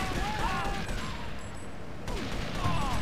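Uzi gunfire from an enemy in Grand Theft Auto III, a dense, rapid rattle of shots that runs steadily through the whole moment at close range.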